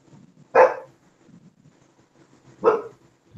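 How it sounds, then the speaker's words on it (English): A dog gives two separate sharp barks about two seconds apart, close and clear, over a quiet outdoor background. "The dog's happy that I'm live."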